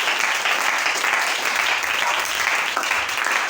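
A church congregation claps and cheers to acclaim the Lord, dense and sustained applause filling the whole stretch, loud and close, with no voices standing out.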